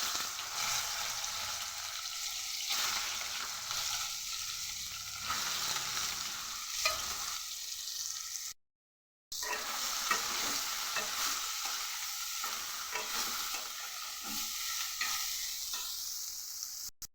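Boiled soybeans frying in oil with dry red chilli, cumin, turmeric and salt, a steady close sizzle with repeated stirring scrapes, broken by a brief silent gap midway.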